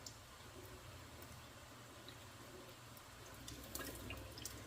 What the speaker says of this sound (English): Throw it back in the pot, and then I'll give it one more rinse.